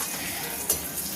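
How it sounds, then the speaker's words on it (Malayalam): Dried fish fries in a pan with a dense, steady sizzle close up. A short scrape or clink of a stirring utensil comes partway through, and no one speaks. "അതിന് വേണ്ടി ഉണക്കമീൻ വറുത്തെടുക്കണം, എന്നിട്ട് കോരിയെടുക്കണം."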